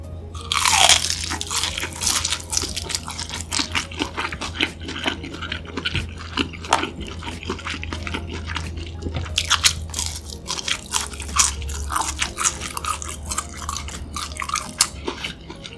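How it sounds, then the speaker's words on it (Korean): Crunchy fried squid tempura, freshly fried at home, eaten up close in a steady run of loud crisp bites and chewing, with sharp crackles throughout and no talking. "집에서 튀김은 한번 오징어 튀김 먼저 먹어볼게요."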